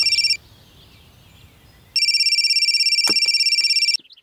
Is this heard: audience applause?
no